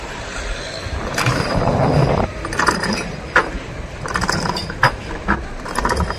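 A crane hoists a fishing boat up out of the water for the monsoon off-season, giving a loud mechanical grinding and ratcheting of cables and gears, with sharp clanks and knocks breaking through the steady churn.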